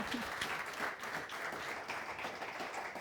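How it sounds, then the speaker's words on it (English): An audience gives a big round of applause to a guest at the close of a talk on family preparedness, dense clapping sustained steadily for a few seconds. "Big round of applause."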